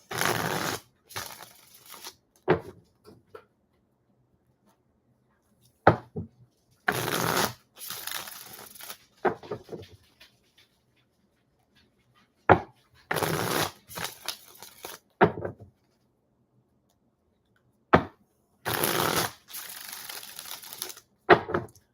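Tarot cards shuffled in several rapid, crisp riffling bursts, each a second or two long, separated by quiet pauses, close and fairly loud.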